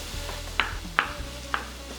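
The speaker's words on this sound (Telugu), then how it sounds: "టమోటా ముక్కలు వేయాలి." Tomato pieces go into a pan where bottle gourd pieces are cooking in oil for chutney, giving a soft sizzle with a few sharp clicks of stirring or utensil contact over a low steady hum.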